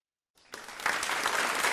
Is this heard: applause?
yes